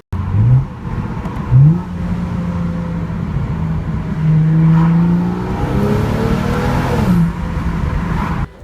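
A turbocharged BMW with Valvetronic downshifts, its engine blipping up in short rising revs followed by a sustained whirring drone, loud and close from inside the car.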